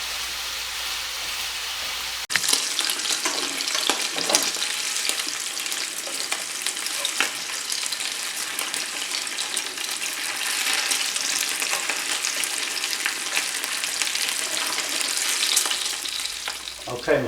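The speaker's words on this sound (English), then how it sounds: "Don't you just love the smell of bacon when it's frying up?" Loud crackling sizzle of bacon frying in a pan starts abruptly and continues steadily, dense popping and spattering, close up with no talking.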